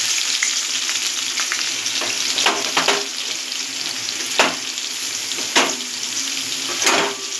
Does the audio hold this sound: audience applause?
no